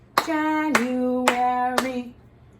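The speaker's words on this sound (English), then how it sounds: "January, 4 claps" Four sharp hand claps ring out at an even pace in a classroom calendar routine, each a crisp, loud snap, while a sustained voice tone carries underneath.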